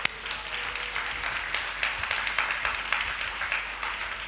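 A church congregation at a worship service claps hands together in thanks, a continuous mid-loud patter of many palms with a slight rhythmic pulse and no talking.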